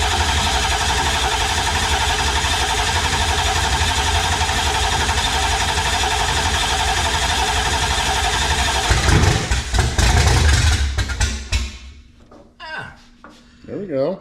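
A 1966 Ford Mustang with a 302 V8 runs steadily at a loud, close idle with a rough mechanical roar, surges briefly, then drops away as a person speaks.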